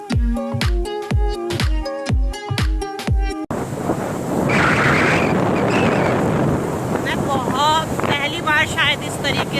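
Motorbike ride along a village road: after a few seconds of rhythmic tonal pulses, steady wind buffeting and engine rumble take over, loud and close, with a voice faintly audible under the roar.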